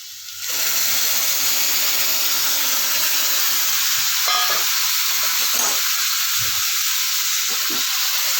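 Milk poured into melted sugar in a pan bursts into a loud, steady hissing sizzle that starts abruptly and continues with faint bubbling and stirring.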